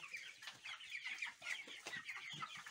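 Several chickens cluck and murmur softly in a continuous, busy chatter, fairly quiet and close, with no voices.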